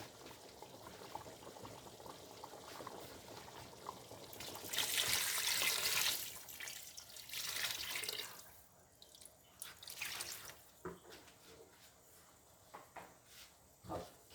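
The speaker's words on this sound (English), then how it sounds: "we're going to add in some more water" Water poured into a cooking pot of African palm butter sauce with meat, a broadband splashing rush lasting a couple of seconds, followed by a shorter second pour and then faint drips and clinks.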